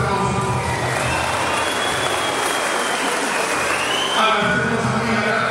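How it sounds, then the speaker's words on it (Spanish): A crowd at the San Pablo Zitlaltepec town fair applauds in a steady, broad wash of clapping and faint cheering, outdoors and fairly loud, with a few tonal sounds cutting through near the end. "Le damos un fuerte aplauso."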